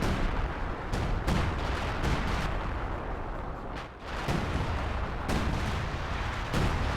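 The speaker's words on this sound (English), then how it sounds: "Assault artillery." Assault artillery pounds away in Company of Heroes 2, firing repeated heavy shell bursts and explosions in a dense, continuous barrage with a brief dip in the middle.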